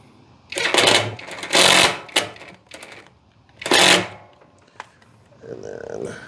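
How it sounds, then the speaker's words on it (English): A power driver whirs in several short bursts as a screw is driven into a trailer during a lights rewire, close and loud with pauses between pulls of the trigger. "And then we're gonna put this screw in."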